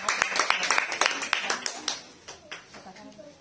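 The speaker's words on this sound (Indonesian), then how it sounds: "Tepuk tangan" A church congregation claps in a quick, lively rhythm of sharp hand claps, close and fairly loud, with voices mixed in, before the claps fade into a few scattered ones.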